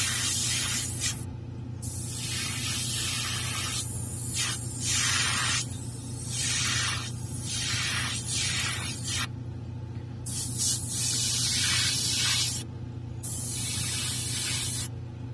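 An airbrush sprays paint onto the horn of a 1/4 scale Hellboy figure, held very close, giving a sustained loud hiss broken by brief pauses as the trigger releases.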